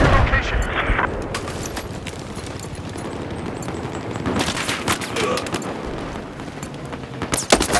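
Machine gun fire in Battlefield 4 on Operation Mortar in Conquest mode, rapid bursts and scattered shots over constant battlefield din, with distant booms and a sharp close crack near the end.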